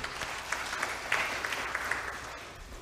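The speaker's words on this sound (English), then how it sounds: "big round of applause for our children" Soft, fairly distant applause from a church congregation at a Sunday worship service for the children. It is a steady patter of many hands, with a few sharper claps standing out, and it fades a little at the end.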